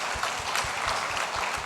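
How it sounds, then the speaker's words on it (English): A conference audience at a talk on generative AI for software testing gives a steady round of applause, many hands clapping continuously and evenly for the whole moment with no speech. "even if we fail, please give a good round of applause."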